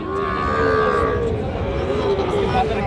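Sahiwal cattle at a busy cattle market, one long loud drawn-out moo over a constant crowd murmur and background chatter.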